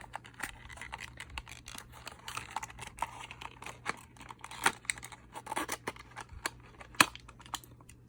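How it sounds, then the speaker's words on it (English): Scissors snip through packaging during a fall subscription box unboxing, with a run of quick, close cutting and crinkling clicks at moderate to faint level and no talk. "Let's cut it open."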